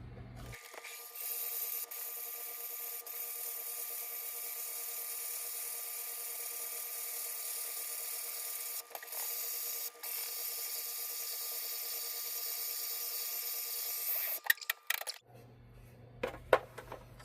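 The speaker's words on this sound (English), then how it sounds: "thinking I might drill holes in it so it can reflect the light out the holes" A power drill bores holes in a turned-wood lighthouse piece, giving a steady, high, unbroken whine for about fourteen seconds before cutting out, followed by a few faint clunks.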